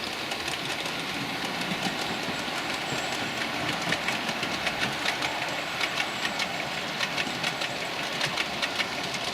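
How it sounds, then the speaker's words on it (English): Three model railway trains running together on a layout with gentle curves, a steady mechanical rumble with fast rhythmic clicking of wheels on track joints, continuous and fairly near, with no voices. "Yeah, 3 trains together"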